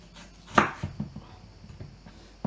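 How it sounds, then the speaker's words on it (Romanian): A knife chopping potatoes into large pieces on a board: a few close, sharp knocks, one loud strike followed by softer taps and another firm cut at the end. "Și acum vom tăia cartofii."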